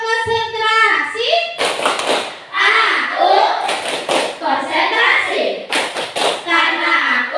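Schoolchildren perform a concentration clapping routine, with quick irregular bursts of clapping and tapping mixed with their chanted voices in a lively, close classroom sound.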